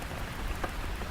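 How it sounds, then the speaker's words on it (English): Heavy rain pounds the deck of a fishing boat in an Alaskan storm, a dense steady wash of drops with no voices, fairly quiet and even throughout. "Rain hammered the deck in sheets, wind screaming through the rigging."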